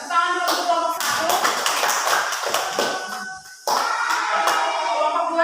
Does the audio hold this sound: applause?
yes